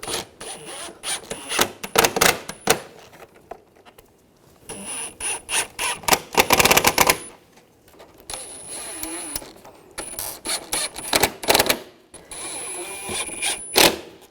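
Screws are started into the front bumper cover of a 2004-2009 Audi A4 Quattro, with close bursts of ratcheting clicks, scraping and plastic rubbing broken by short pauses.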